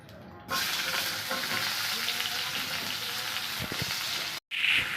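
Onions fried in oil in a pan with cumin seeds and a bay leaf, producing a strong, close, continuous sizzle with occasional stirring, broken by one brief cut near the end.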